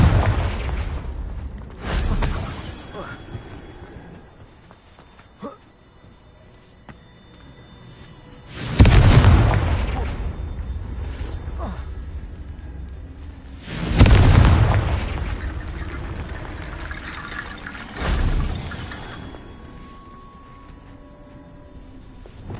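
Repeated spell blasts from the Confringo fire spell in Hogwarts Legacy on PS5, striking rocks: four loud, deep booming explosions spaced several seconds apart, each with a rumbling tail, over quieter game ambience.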